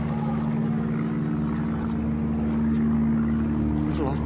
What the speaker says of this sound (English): You hear the droning noise of one of those light aircraft that tows advertisers' hoardings